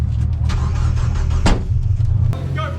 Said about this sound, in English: Start the car, start the car!